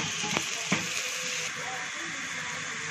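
Onions fry with cinnamon and spices in a pan, a steady sizzling hiss throughout with a couple of sharp stirring clinks early on, fairly close and moderate in level.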